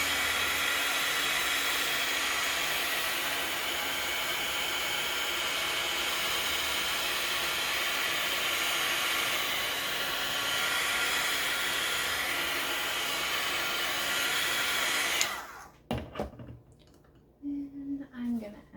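A hair dryer blows steadily and close for about fifteen seconds, drying paint on a napkin page, then switches off, leaving brief handling noises and faint sounds.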